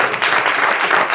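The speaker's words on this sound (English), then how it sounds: "Give yourself a round of applause." A brief burst of audience applause at a Hack the Ocean award ceremony, dense steady clapping from many hands heard up close, alone without speech.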